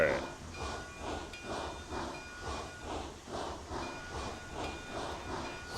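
A steam locomotive vents steam in the train-driving game RailRoads Online, a continuous loud hiss that swells and eases in rhythmic pulses, with a faint whistle-like tone running underneath.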